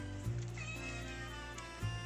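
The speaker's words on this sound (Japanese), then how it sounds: "なあ、クロちゃん、にゃーんって。" A house cat gives a couple of short meows, faint and partly covered by a steady low hum.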